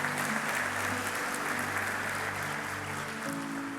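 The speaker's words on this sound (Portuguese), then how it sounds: "Aplauda Ele mais uma vez." Church congregation applauding together during a service, a sustained dense wash of clapping from a crowd that carries on evenly from start to finish without pause; no talking.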